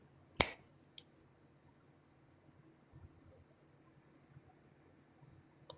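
A single crisp finger snap sounds close and sharp, followed by a fainter click a moment later, then near silence with only a low background hum.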